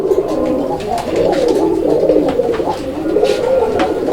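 Domestic pigeons at a market sale in Bangladesh coo and murmur continuously, a dense layered flock sound close by with no talk over it.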